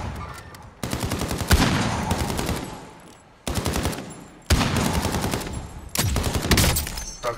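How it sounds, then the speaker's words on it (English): Bursts of rapid automatic gunfire from a match of Call of Duty: Modern Warfare come in several loud, sustained volleys separated by short lulls. "Oh, somebody's shooting to us."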